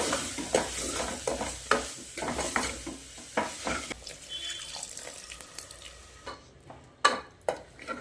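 Masala gravy for a peas curry fries and gets stirred in a pan, with a bed of sizzling broken by scraping spoon strokes that come in irregular bursts, louder near the end.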